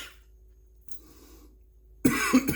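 A single sharp cough, close and fairly loud, bursts out after near-silence, followed by a second smaller cough or throat-clear; no one talks.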